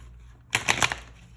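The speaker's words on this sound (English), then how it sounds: "That was not a good shuffle." A brief, crisp burst of tarot cards being shuffled, a quick rattling flutter of several rapid clicks lasting under half a second in a quiet room.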